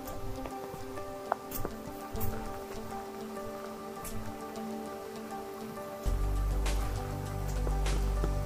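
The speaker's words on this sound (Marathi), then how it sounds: "आता जोरात पाऊस लागलेला आहे" Rain falls steadily in a village near a river in Khed, a soft, constant patter of drops on surfaces with a few faint ticks, heard fairly quietly and without talk.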